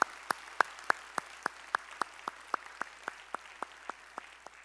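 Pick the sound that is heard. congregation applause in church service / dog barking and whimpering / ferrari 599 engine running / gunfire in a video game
congregation applause in church service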